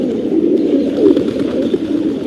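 Racing pigeons coo in low, throaty rolling calls, close and continuous over a couple of seconds, several birds overlapping.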